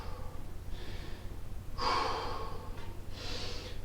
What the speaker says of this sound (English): Just a couple of breaths in that position.